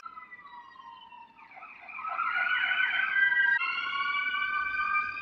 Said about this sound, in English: I'm sorry if you hear sirens